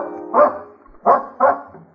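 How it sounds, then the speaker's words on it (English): A dog in a radio drama barks three times in quick succession, moderately close and loud, over a faint sustained background tone. "That dog is definitely leading us somewhere."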